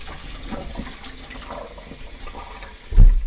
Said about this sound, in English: I'm going to run some water down the drain so it doesn't burn my drain.